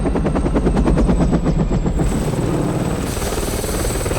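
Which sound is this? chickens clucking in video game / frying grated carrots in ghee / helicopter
helicopter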